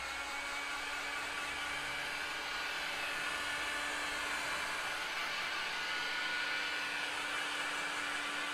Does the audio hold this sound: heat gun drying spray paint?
yes